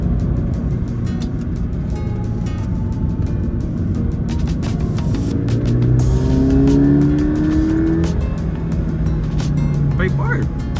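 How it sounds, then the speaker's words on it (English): Toyota 86 sports car driving on the Hakone Turnpike, a steady engine drone with rising and falling pitch as it accelerates, running continuously under people talking inside the car. "to finally drive here the Hakone Turnpike with the Toyota 86"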